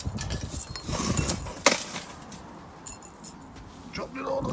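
Pieces of homemade biochar charcoal clinking together with a glassy ring, several bright chinks and rattles close up, mixed with rustling handling noise.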